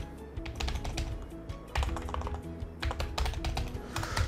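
Fingers type quickly on a computer keyboard in close, rapid bursts of clicking keys with short pauses, no speech over them.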